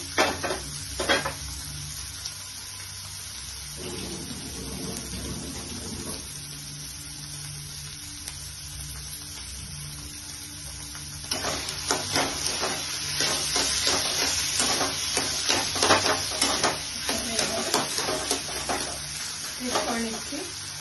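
Paneer sizzles and fries in a pan while being stirred, with scraping of a utensil against the pan; quieter frying in the first half gives way to louder, busier stirring and clatter in the second half.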